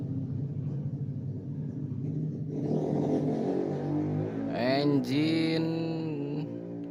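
A 2016 Toyota Avanza engine runs under test after ECU and immobilizer repair, a steady low rumble that swells into a brief rev with rising whine before settling back to an even idle.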